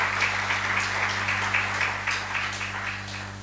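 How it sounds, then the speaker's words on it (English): An audience applauds a speaker at the Innovation for Prosperity event with steady, moderate clapping. A constant low electrical hum sits underneath the clapping. "I'd like to request everyone to give a big round of applause again for him."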